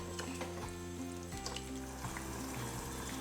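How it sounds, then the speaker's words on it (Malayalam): Potato masala curry for poori simmering in a pan, a close, steady bubbling and sizzling with soft pops, no talking. "പൊട്ടറ്റോ നന്നായിട്ട് തിളച്ച് വരുന്നുണ്ട്"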